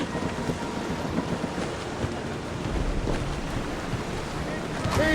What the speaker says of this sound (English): It's quite a rough squall, Cap.